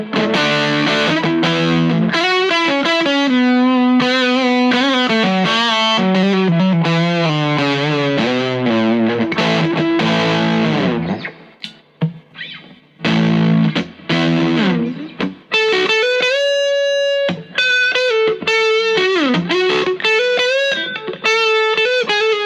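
Electric guitar played through a pedalboard with both drive channels engaged at once, giving a loud, thick distorted tone of sustained chords and single-note lines, with brief pauses before a brighter ringing passage.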